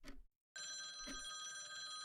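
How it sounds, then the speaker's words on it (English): Telephone bell ringing in a horror game set in a mushroom-infected city, a steady electronic ring after a brief pause, close and clear with no talk. "The phone again."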